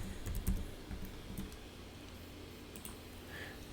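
Password typed on a computer keyboard, a few soft key clicks early on over steady room hiss, then quieter, close and faint.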